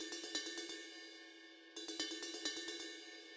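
Ride cymbal in a metal drum mix left unequalized, a steady run of bright washy pings with a short gap mid-way, sounding dull and masked.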